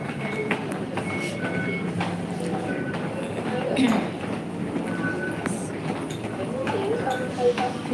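Passenger train ride with steady rumbling and rattling of the carriage, clicks and clatter under low-level background chatter throughout.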